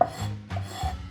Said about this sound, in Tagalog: Ganun din ang paghiwa ng celery.